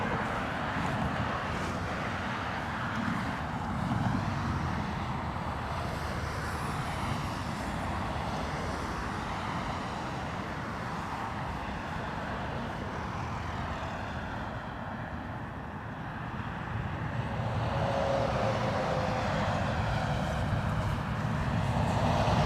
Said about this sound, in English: Aer Lingus A330 next, inbound from Chicago